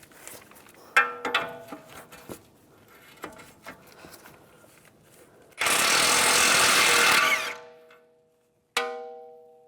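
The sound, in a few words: removing a nut with a 22mm socket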